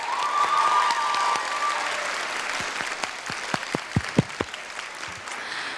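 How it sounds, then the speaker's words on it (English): Room audience applauding for the women present during a Women's Month event, a loud, dense burst of clapping that thins out into a few scattered, separate claps near the end. "can I get a one round of applause for all the women in the room right now?"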